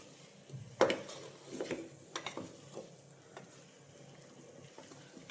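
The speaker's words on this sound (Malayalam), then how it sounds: "മഷ്റൂം ഇട്ട് ഈ മസാല അതിലേക്ക് മുഴുവനായിട്ട് പിടിക്കുന്നവരെ ഒന്ന് ഇളക്കി കൊടുക്കും." Sliced mushrooms stirred into masala in a pressure cooker for mushroom biryani: a spoon scrapes and clanks against the pot with soft sizzling, several scattered stirring strokes close by.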